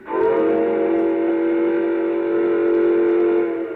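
A steam train whistle blows in one long, steady, loud chord that holds for several seconds before tapering off at the end.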